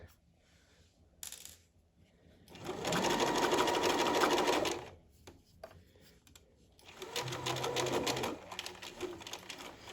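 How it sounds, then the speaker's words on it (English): A sewing machine stitching a shirt seam allowance runs in two bursts of rapid whirring, each about two seconds long, separated by quiet handling clicks and rustles. "And I'm just stitching this to the seam allowance."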